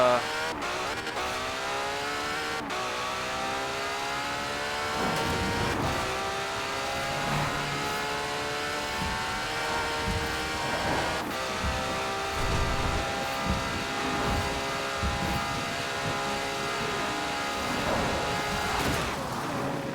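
Race car engine revving hard through high gears on a wet track in Forza Horizon 4 during heavy rain, with steady loud engine harmonics rising and falling over a continuous hiss of spray and tire noise.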